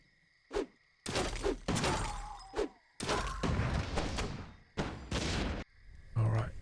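Mass wisp detonation in a Warcraft III Night Elf versus Human match: a cluster of loud, abrupt blasts and crashes in quick bursts, with a commentator's voice talking between and over them.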